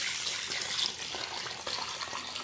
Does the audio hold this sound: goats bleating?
no